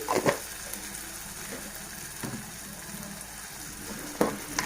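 Tomato curry gravy frying in a pan, a steady soft sizzle with a few sharp spatters and stirring scrapes spaced through the clip.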